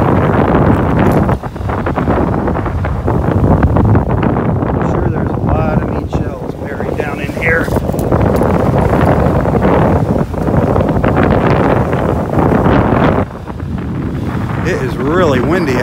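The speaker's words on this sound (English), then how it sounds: "really windy out here." Strong wind on a beach in North Naples, Florida, roaring and buffeting the microphone almost continuously with gusty rises and brief dips, loud and close.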